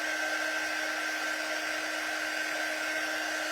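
A hair dryer blows steadily and loudly at close range, drying Mod Podge on a bird and hearts craft project, a constant whine with no pauses or talk.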